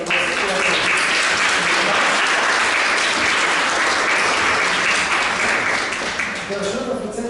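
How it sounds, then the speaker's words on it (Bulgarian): An audience gives Maria Saradosa sustained applause at a contest event, a thick, even roar of many hands clapping, loud and unbroken, tapering slightly toward the end. "Аплодисменти за Мария Сарадоса"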